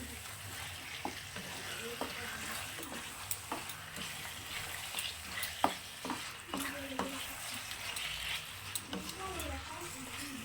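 Marinated chicken for white chicken korma sizzles steadily in oil in a pan, with repeated sharp clacks and scrapes of a spoon stirring it, and a voice faintly in the background.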